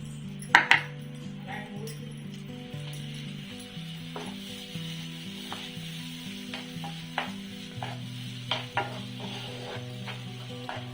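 Onion paste frying in oil in a pan for an egg masala curry, a soft steady sizzle with occasional spoon scrapes and clinks against the pan, alongside a low continuous hum.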